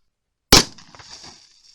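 A single sharp, loud 10mm pistol shot firing a Steinel 220-grain hardcast bullet into a row of water jugs outdoors, with a brief splashing, crackling tail after the bang.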